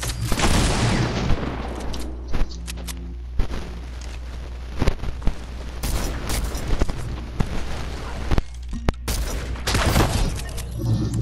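Gunfire in a video game shooting gallery, built while making a map: sharp shots and booming blasts arrive in rapid bursts and scattered single cracks, loud and close, over a steady low hum.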